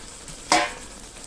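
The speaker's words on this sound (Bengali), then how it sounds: "এবার আমি এখানে আলুগুলো দিয়ে দিচ্ছি।" Potatoes drop into a pan of spice paste that has been frying for several minutes for a chicken-and-cabbage curry, giving one short, close sizzling burst that quickly fades back into a faint hiss.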